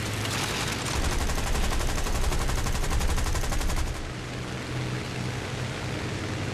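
Rapid machine gun fire from an aircraft in the War Thunder combat flight game, a dense, loud continuous burst that cuts out near four seconds and leaves steady engine roar.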